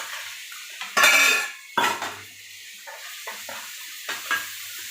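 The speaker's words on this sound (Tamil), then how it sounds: "2 பச்சை மிளகாய் இதை போட்டு நல்லா வதக்கணும்." Garlic, ginger and two green chillies are sautéed in a pan for pepper chicken masala, with a few sharp metal spatula scrapes and clanks over a low, faint sizzle, separated by quiet gaps.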